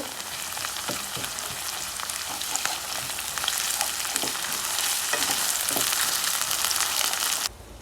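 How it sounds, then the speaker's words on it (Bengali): Onions frying in a pan with ginger and garlic paste while a spoon stirs them, a dense close sizzle with scattered scraping taps, cutting off abruptly at the end; no one speaks. "এখন আমি এতে আদা বাটা আর রসুন বাটা দিয়ে আবারও একটু নেড়ে নেব।"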